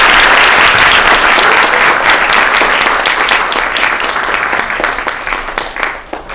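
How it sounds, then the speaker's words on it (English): An audience gives loud, sustained clapping after a Kathak dance debut performance, dense at first and then thinning and fading toward the end. "please give another round of applause to Ridhima"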